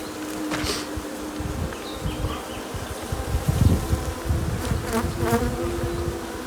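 Honey bees buzzing around an open beehive during an inspection, a dense, continuous close drone with individual bees swelling louder as they pass, plus light handling knocks.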